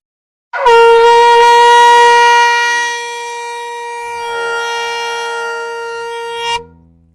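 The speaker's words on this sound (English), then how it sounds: "I'm going to blow the shofar" A single long shofar blast sounds loud and close, a steady ram's-horn tone with a bright, buzzy edge that holds for about six seconds, dips slightly in the middle, and ends with a short rise before cutting off.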